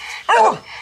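One sharp, loud bark comes from a hunting dog used for rabbit hunting. It is very close and ends abruptly, with quiet before and after.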